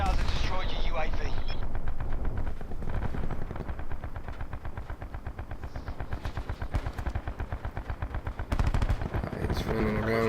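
Rapid, steady bursts of SG 12 shotgun fire in Black Ops 4 multiplayer, repeated shots forming a dense rhythmic volley with louder blasts near the end, under faint game voices.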